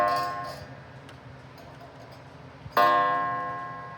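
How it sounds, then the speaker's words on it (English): A pendulum clock strikes twice: a soft metallic ring fades early, then a louder, sharper gong stroke with a buzzing rattle from a hammer that hits the gong poorly rings out and slowly decays. "The hammer always has the issue to not want to hit the gong, so it sounds pretty bad at times."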